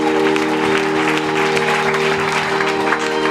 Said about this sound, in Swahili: Muongeze tena Bwana makofi mengi.